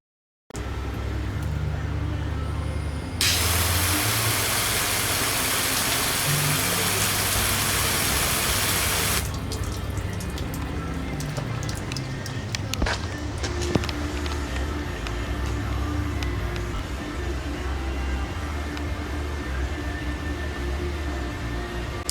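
A Harbor Freight vapor hone cabinet runs on a test: a steady mechanical hum with a loud, even hiss that blasts for several seconds, then continued machine rumble with scattered rattles.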